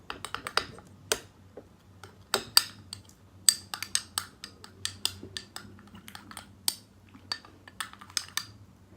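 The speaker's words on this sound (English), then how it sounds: "then we need to mix it into a thick paste" A thick tomato and lemon facial paste is mixed in a bowl, making quick, close clicks and taps as the utensil strikes the bowl in an uneven rhythm against a quiet background.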